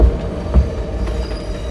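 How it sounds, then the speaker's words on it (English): A train passes over rails with a steady low rumble, a few heavier thuds from the wheels and faint squealing overtones, sustained throughout with no voices. "another train passed over the same rails heading in the opposite direction"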